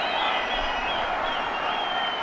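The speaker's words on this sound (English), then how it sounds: "Akbar goes big into the crowd, and you could hear the roar of Rajshahi people" Rajshahi home crowd at an emerging-level cricket one-day match roaring and cheering after a big hit into the stands, a dense, steady wash of voices and applause sustained at full volume throughout.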